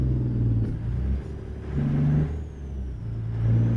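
Truck engine in American Truck Simulator, a deep steady diesel rumble that rises and falls gently with the revs, continuous and close with no talking.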